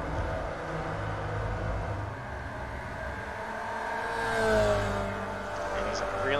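Race cars roar off the line at the start of a race, a dense layered engine drone that swells as the cars accelerate, under continuous commentary.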